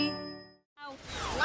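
A small bell in a Thomas & Friends cartoon rings once with a clear bright ding and a sustained shimmering tone that fades to silence, followed by a brighter, busier jingling burst.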